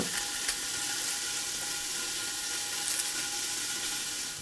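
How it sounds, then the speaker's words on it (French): Meat sears in a pan for Irish stew, producing a steady, close, bright sizzle that holds evenly throughout without any talking. "Pendant que la viande est en train de saisir"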